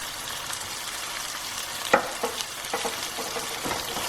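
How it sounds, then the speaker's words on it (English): Cumin, turmeric and chili powder sizzle steadily in a pan with a few sharp stirring knocks, close and fairly quiet, with no voices. "and mix those spices through for about 2 to 3 minutes"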